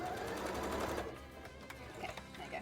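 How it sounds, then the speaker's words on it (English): Sewing machine stitching fabric for a costume wing, a fast steady mechanical chatter that slows and stops partway, close and fairly quiet, with no talking. "so I'm just gonna keep sewing it"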